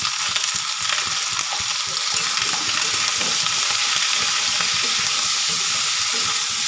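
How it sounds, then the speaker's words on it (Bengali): Vegetables frying in a pan with salt and turmeric for a Bengali spinach ghonto, a steady close hiss and sizzle with stirring scrapes throughout. "এবার আমি সবজিগুলোকে লাল লাল করে ভেজে নেব"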